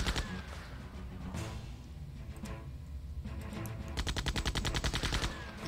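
Maya firing a level 1 shot at an enemy in Septerra Core, a few distinct gun blasts early, then a fast regular rattle of machine-gun-like shots near the end.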